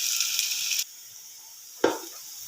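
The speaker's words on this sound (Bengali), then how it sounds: "ভালো করে নেড়ে চেড়ে চালগুলো 10 মিনিট ভেজে নেব।" Rice frying and being stirred in a pan for pilaf, a bright sizzle that drops away abruptly, then returns with a sharp scrape and sizzle.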